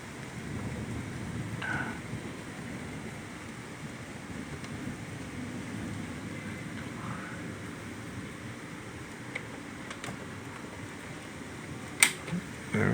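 Thunder rumbling low and continuous overhead during a lightning storm, with rain hiss throughout and a sharp crack near the end; no one speaks.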